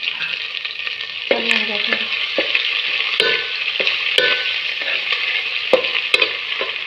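Garlic paste frying for mutton curry is stirred in a pan, giving a constant bright sizzle with sharp scraping and clinking spoon strokes at irregular intervals, close up and with no talk.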